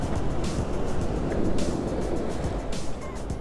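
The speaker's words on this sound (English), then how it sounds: "the waves that are coming up right now" Ocean waves roll onto a rocky shore at sunrise on Oahu, Hawaii, as a continuous loud, broadband surf wash with a few breaking surges, nearby and unaccompanied by talk.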